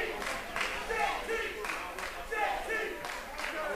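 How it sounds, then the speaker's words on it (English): Wrestling crowd at a Marysville hardcore battle royal clapping rhythmically for JT, a faint, steady pulse of hand claps and murmured cheering with a commentator talking over it. "Crowd sincerely behind JT, it sounds like, early."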